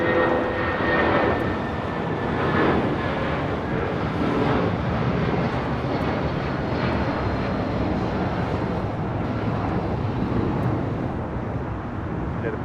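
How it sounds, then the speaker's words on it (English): A United Airlines Boeing 757-300 takes off at LAX bound for Denver, its jet engines giving a loud, steady broadband roar that stays close and constant throughout. "This is United Airlines 745 taking off to Denver, Colorado on a 757-300."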